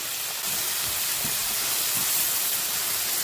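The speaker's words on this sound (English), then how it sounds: "Let's add in the spinach, wilt down the spinach." Spinach wilting down in a hot pan gives off a steady, loud steaming hiss that fills the whole clip, broken by faint low bumps with no one talking.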